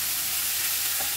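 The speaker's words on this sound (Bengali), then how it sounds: "অপর সাইডে উল্টিয়ে ভেজে নিচ্ছি।" Chicken pieces fry in hot oil after being flipped to the other side, a steady, close sizzle throughout with no voices.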